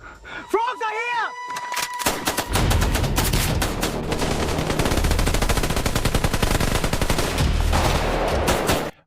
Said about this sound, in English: the AI is also not very good at making gunshot sounds